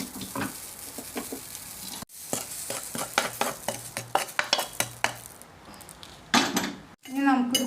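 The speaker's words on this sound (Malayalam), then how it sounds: "കസ്കസ് ചൂടാക്കുമ്പോൾ കരിയാതിരിക്കാൻ തിരി നന്നായി ചുരുക്കുക" Poppy seeds roasting in a pan as they are stirred, producing close, rhythmic scraping strokes with light clinks of metal on the pan. A brief voice-like sound comes near the end.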